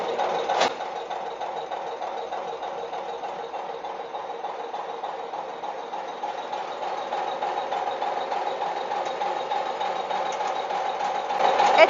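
A DTS 619 diesel injection pump test bench runs steadily throughout, giving a continuous mechanical hum and whir at an even level with no voices.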